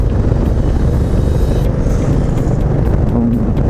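A Royal Enfield Meteor 350 motorcycle rides along countryside roads with a steady, loud engine drone and heavy wind rush, the revs rising slightly as throttle is applied around a bend.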